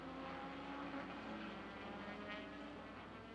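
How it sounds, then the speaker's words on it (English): Race car engines roar and whine at a distance as cars brake hard at Wake County Speedway, a steady dense mechanical rumble with no talking. "Listen to them slamming on brakes."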